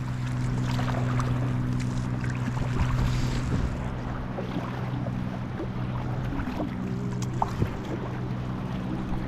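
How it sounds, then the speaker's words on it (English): A kayak paddles near Washington Beach in Anacortes, with steady water and wind noise and low rumbling throughout. Paddle strokes blend into the continuous wash, with no talking. "let's paddle on the left hand side"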